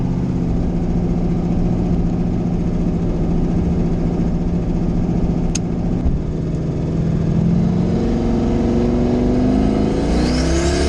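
A car fitted with a rebuilt TH400 automatic transmission roars steadily under hard acceleration while spinning its tires in second gear, a continuous loud engine drone with rising pitch near the end and no talk.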